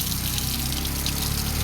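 Strong water gushing from an outdoor faucet in a rural farm area, a steady full-bodied rushing flow that stays loud and even throughout, with no voices.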